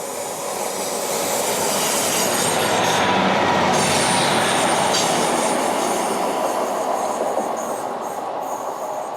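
A train moving slowly along the coastal railway near Teignmouth, a steady close rumble of wheels on rails with faint squeal, sustained and loud throughout with no talking.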